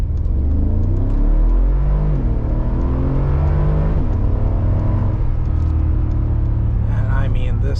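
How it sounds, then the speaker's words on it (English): Mercedes G63 AMG SUV accelerating hard through a 0 to 60 run, a loud, continuous engine roar with rising revs and gear shifts that dominates the recording, while a voice talks faintly underneath. "I'm gonna test the car and give it a 0 to 60 run"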